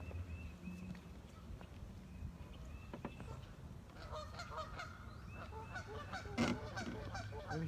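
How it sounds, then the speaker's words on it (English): Geese honk repeatedly in a spring garden setting, a series of distinct calls rising from a quiet outdoor background, moderately near, with no talk. "But primo location for the geese."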